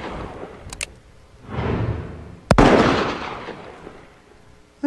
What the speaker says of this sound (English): firing magnums old and new makes a trip to the firing range an experience to remember